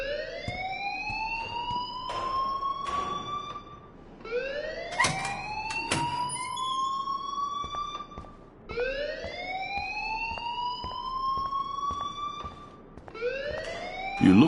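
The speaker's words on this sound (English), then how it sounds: "please turn off that alarm since that's your job" An alarm ringing in the video game Life is Strange: a loud rising electronic whoop repeats about every four seconds, each sweep with sharp clicks and knocks mixed in, steady and close.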